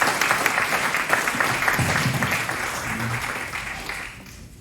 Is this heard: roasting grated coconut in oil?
no